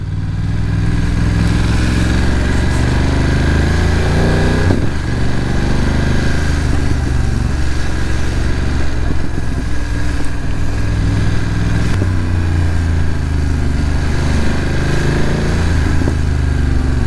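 A 2024 BMW F900R motorcycle rides steadily through the city and onto the autobahn, its engine a loud, continuous drone with a few brief gear-change dips and rising pitch sweeps, heavy wind rush running underneath throughout.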